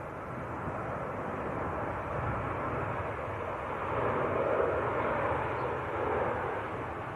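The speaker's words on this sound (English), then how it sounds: "around about a mile out at the moment. 737-900 this lunchtime. In from Amsterdam" A KLM Boeing 737-900 in from Amsterdam rumbles about a mile out on approach to Manchester Airport, a broad steady jet roar that swells slightly louder toward the end, heard alone.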